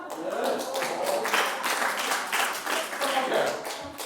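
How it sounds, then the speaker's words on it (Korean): An audience claps in a lecture hall during a talk about potatoes, a dense burst of hand claps lasting several seconds with voices mixed in. "박수!"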